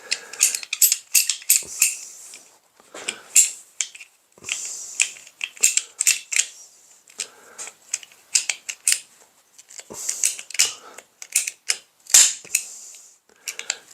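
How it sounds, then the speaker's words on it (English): A PVC pipe cutter working on vinyl tubing, giving a rapid series of sharp mechanical clicks and ratcheting snaps in irregular bursts with short pauses, close up and fairly loud, with no talk. "This is, after all, a PVC cutter, not a vinyl tube cutter"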